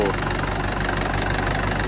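A 1996 Chevrolet D20 Conquest pickup engine idles steadily with a modified, bent exhaust adding a faint whistle, a close, even low rumble while someone talks over it.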